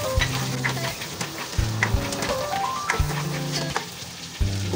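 Chicken feet sizzle in butter in a pan as star anise is stirred in, with steady frying crackle and repeated low scraping stirs at a close, even rhythm.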